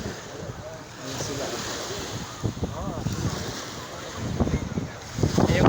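Ocean waves wash steadily at Halfmoon Beach in Saudi Arabia, with wind buffeting the microphone and faint voices in the background.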